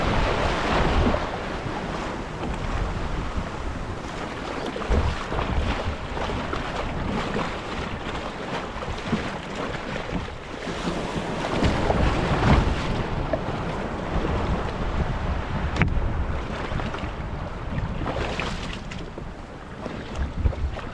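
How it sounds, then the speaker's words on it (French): Out on the sea during a fishing trip, wind buffets the microphone and waves wash and slap against the boat in a continuous, loud roar with no talking. "aujourd'hui il y a du vent, mais la mer est correcte."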